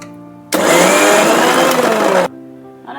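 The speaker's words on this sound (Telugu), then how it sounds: "ఇది మిక్సీ తిప్పుదాం." A mixer grinder whirs loudly for about two seconds as it grinds roasted bitter gourd, starting abruptly and cutting off sharply, with a quiet hum before and after.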